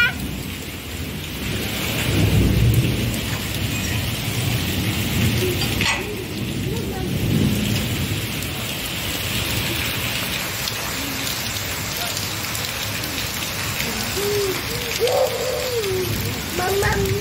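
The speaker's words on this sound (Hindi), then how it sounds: "बहुत तेज हो रही है बारिश" Heavy rain pours steadily in a dense hiss, with low rumbles of thunder rolling underneath; a few faint voices briefly sound near the end.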